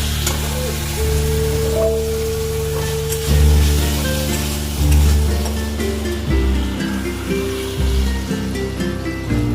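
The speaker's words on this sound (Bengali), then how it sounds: "মশলা ভাজা হয়ে গেল" Loud oily crackle and sizzle of spices and dried red chilies frying in oil, steady throughout, with a few surges and soft music in the background.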